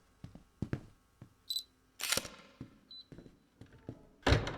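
Camera shutter clicks in a horror video game, a few sharp mechanical snaps and thunks scattered among sparse clatter and quiet gaps.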